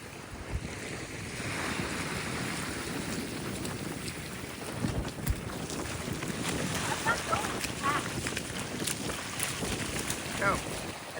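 Wind gusts hard across the microphone at Midnight Pass on Turtle Beach, with water rushing and surf washing through the pass, a constant loud roar with rumbling buffets and no clear talking.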